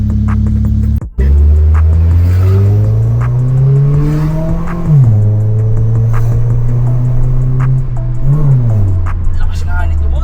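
Mitsubishi Lancer EX 1.6L with a full exhaust, 4-2-1 headers and dual tips revs up repeatedly, its loud rasping drone rising and falling in pitch after a brief cut at the start.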